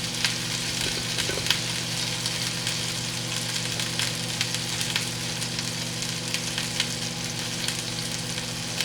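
Garlic sizzles and fries steadily in a pan over high heat, a dense, continuous crackle close by with a low hum underneath and no talking.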